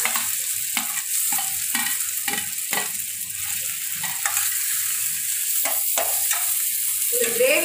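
Chopped tomatoes tossed into a pan of frying spiced chicken masala, sizzling steadily while a spatula scrapes and stirs in regular strokes about once a second, close and with no talk.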